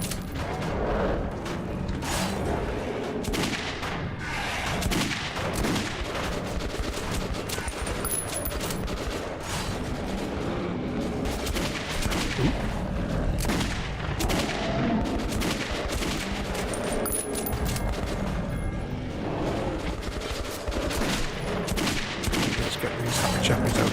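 Rapid bursts of gunfire from the first-person shooter Metro 2033 Redux, shots crackling almost continuously for the whole stretch at steady loudness, with mechanical clatter mixed in.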